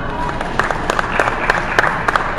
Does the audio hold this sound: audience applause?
yes